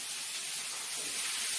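Onions sauté in a pan with salt for Bombay rava upma, giving a close, steady hiss and sizzle throughout a short stretch with no talking.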